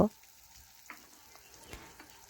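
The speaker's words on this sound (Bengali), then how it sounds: "তো পেঁয়াজও একটু ভেজে নেবো" Onion frying in oil in a pan, a faint steady sizzle with a few soft stirring scrapes, close but quiet, no talk.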